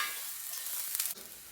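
Homemade lard sizzles in a pan over medium heat, a steady close hiss that runs throughout with one brief swell near the end.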